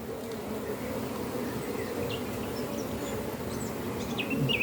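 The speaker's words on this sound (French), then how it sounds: "Les abeilles sont belles." Honey bees at an open hive during an evening inspection, a steady close buzzing drone that swells slightly toward the end, with faint bird chirps in the background.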